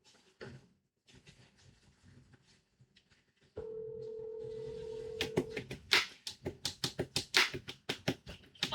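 A phone call rings out on a handset, with a steady tone holding for a couple of seconds, then a run of sharp, regular clicks and beeps, fairly quiet with faint background noise and no talking.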